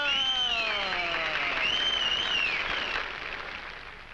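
Studio audience applause on a 1950 film's quiz show, loud at first and tapering off, with whooping or whistling cheers sliding above the clapping.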